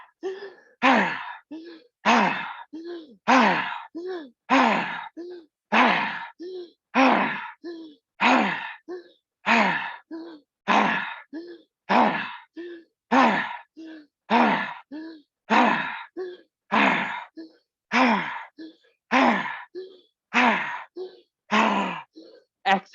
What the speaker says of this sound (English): Exhale out all the air, empty the lungs completely.